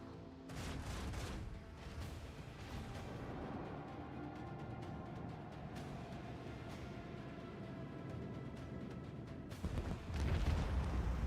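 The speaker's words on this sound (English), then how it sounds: "Unleash the storm of microcannons." Sustained barrage of microcannon fire in the Rogue Trader video game, a dense, rolling stream of booming shots that holds steady, then swells louder near the end.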